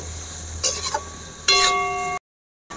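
Chopped onion fries in a pan, two quick scraping stirs with a faint metallic ring over a low sizzle, then a sudden drop to silence.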